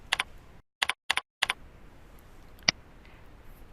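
Keystrokes on a computer keyboard: a few quick clusters of crisp, close clicks tapping out letters, then a single sharper click after a pause, in a quiet room.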